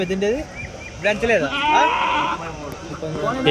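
Goats bleating at a busy Tuesday livestock market in Kadiri, wavering cries rising over close, steady conversation among traders.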